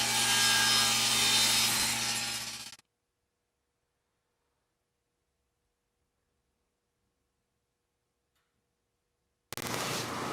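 A padauk wood border is cut down to size, giving a loud, dense rasping saw noise for under three seconds, then near silence for several seconds before the cutting noise returns briefly at the end.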